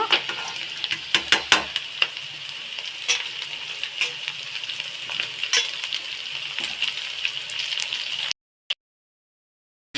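Pumpkin for kumbalakayi palya drops onto fried onions in a pan, which keeps up a steady close sizzle broken by utensil taps and scrapes, then cuts to silence near the end.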